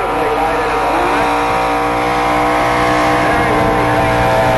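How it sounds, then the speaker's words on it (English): A loaded tractor engine roaring at full power during a tractor pull at Briagalong, a loud, sustained, steady drone close by, with a commentator's voice faintly over it. "He's got that tractor beautifully loaded at the moment."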